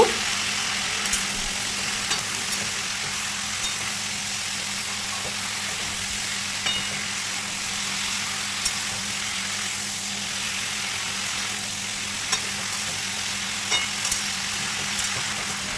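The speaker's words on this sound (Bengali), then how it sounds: "দিয়ে দিচ্ছি হলুদ গুঁড়ো সব কিছু খুব ভালোভাবে মিশিয়ে নেব" Vegetables fry and get stirred with turmeric powder in a pan, giving a steady, loud sizzle with faint occasional scrapes, close and continuous, no talking.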